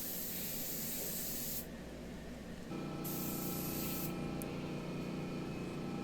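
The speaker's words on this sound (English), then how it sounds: "The first coat is basically just spray it on real thin" Spray gun hissing as a thin coat of paint goes onto a dresser, a loud steady spray that briefly drops and then resumes with a louder motor-like hum underneath.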